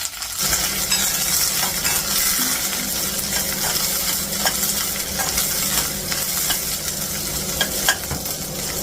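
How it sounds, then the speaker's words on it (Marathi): Okra (bhindi) frying in a wok, with a continuous close sizzle and steady stirring scrapes throughout and occasional sharper clinks. No one speaks. "आता पहिले तर मी आता भेंडी फ्राय करून घेते कढईमध्ये."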